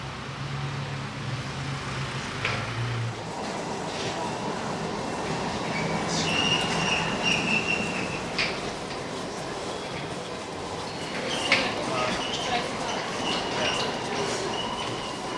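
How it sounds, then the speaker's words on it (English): A train rumbles steadily along the rails at London's Waterloo Station with occasional metallic squeals and clanks, a continuous mechanical roar throughout. "where they're about to take the train to Paris."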